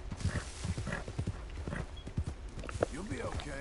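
Horses gallop in Red Dead Redemption 2 while hunting in New Austin, hooves thudding in a brisk rhythmic clip-clop up close, with a whinny near the end and talk over the top.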